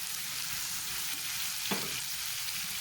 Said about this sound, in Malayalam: ഇത് നന്നായിട്ടൊന്ന് ഇളക്കി യോജിപ്പിക്കും